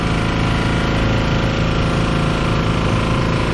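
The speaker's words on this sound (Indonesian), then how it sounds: "Kita lihat getaran mesin, tidak terlalu bergetar ya." A 1000-watt four-stroke generator engine runs steadily and loudly with a continuous low rumble and even vibration throughout, no voices over it.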